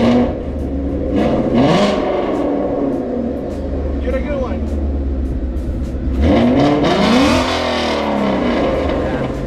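A Ford Mustang GT V8 engine revs twice, each rise swelling loud and near over a steady idle rumble, with a brief lull between the two bursts.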